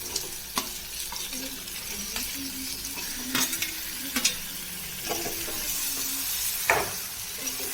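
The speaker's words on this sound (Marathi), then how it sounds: "आपण जी धुवून ठेवलेली आपण धुतलेली साफ केलेली कोलंबी आहे ना ती आपण त्यात टाकून घेऊया" Cleaned prawns (kolambi) sizzle and fry steadily in a pan for Malvani-style cooking, with several sharp stirring scrapes and clinks standing out over the constant close hiss.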